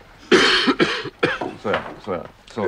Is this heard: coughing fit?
yes